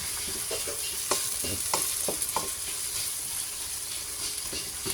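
Spatula strokes scrape and mash leftover fish frying in a pan, a series of irregular scraping knocks over a constant sizzle, with no one talking.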